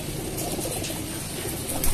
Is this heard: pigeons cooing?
yes